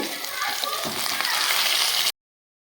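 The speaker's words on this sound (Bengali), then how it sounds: "মাছটাকে আমি উল্টে দিয়েছি দেখো লাল লাল করে একটা ভেজে নিয়েছি" Steady, loud sizzling of chitol fish frying in hot oil fills the clip, then cuts off abruptly into silence.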